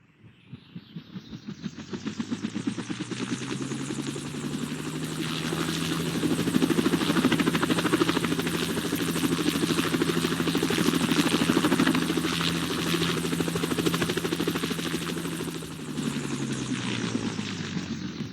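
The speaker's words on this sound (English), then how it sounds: "the Bell 206 and the Bell 206L sound the same, but I'll fire up the 206L so you get an idea" A Bell 206L helicopter turbine spools up from a start, a steady rising whine and rotor hum building to a loud, sustained roar close by, with no talking.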